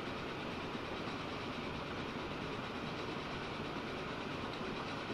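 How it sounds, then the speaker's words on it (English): A passenger train in the Transport Fever 2 tropical map runs close by, making a steady, loud rolling rumble with a faint clickety-clack over five seconds, with no talk. "We were seriously racing the passenger train."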